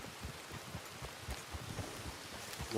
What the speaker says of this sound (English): Although it's raining now